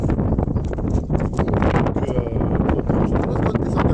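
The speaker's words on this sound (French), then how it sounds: "Il y a beaucoup de vent." Strong wind buffets the microphone outdoors in Dakar, a loud continuous rumbling roar with gusty surges throughout, burying any other sound.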